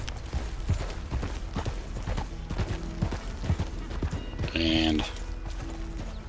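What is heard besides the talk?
horse hooves while riding, from a video game (Bandit Hideouts mod)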